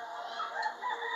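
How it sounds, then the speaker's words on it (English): Chickens in a neighbor's yard, a faint distant rooster crow with clucking in the background. "Show you all these chickens right here running around in the neighbor's yard."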